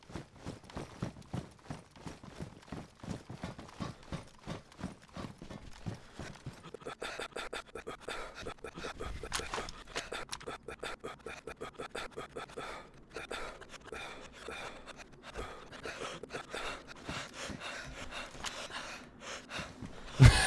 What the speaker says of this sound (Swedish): någon som andas.